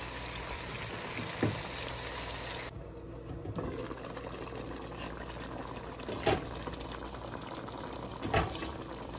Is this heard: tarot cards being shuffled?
no